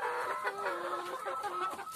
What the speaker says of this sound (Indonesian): Ayamnya lumayan banyak, ini calon-calon indukan.